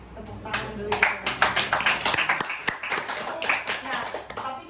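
A small group claps at a university student association podcast, a brisk run of close, sharp claps building and then easing off, with voices talking underneath.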